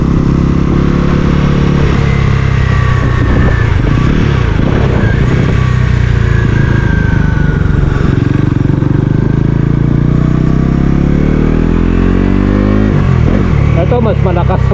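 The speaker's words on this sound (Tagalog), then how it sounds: "Ito mas malakas ang engine ito." A Bajaj Pulsar NS 400Z motorcycle engine runs loud and close on a race track, its drone rising and falling with throttle changes while someone talks over it.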